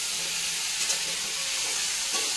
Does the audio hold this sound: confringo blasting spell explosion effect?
no